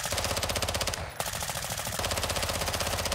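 Rapid bursts of automatic gunfire in Call of Duty: Modern Warfare II DMZ, fast and continuous with a brief pause near the middle, loud and close.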